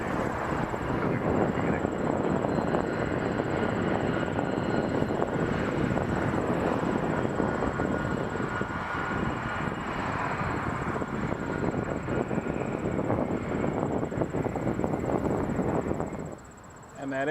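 Airplanes at Toronto Pearson Airport produce a continuous, fairly distant engine roar that holds steady for most of the stretch before dipping briefly near the end.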